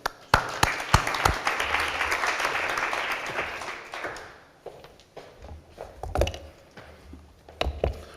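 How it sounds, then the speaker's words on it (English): Audience applause for speaker Mehmet at a forum session, a few seconds of moderate clapping that fades out, followed by scattered knocks and shuffling sounds in a quiet hall. "Ladies and gentlemen, please give an applause to Mehmet."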